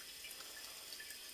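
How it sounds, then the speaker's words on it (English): Water running steadily into a full toilet tank in a flooded bathroom, a faint, continuous trickling hiss with no voices. "the water keeps on running"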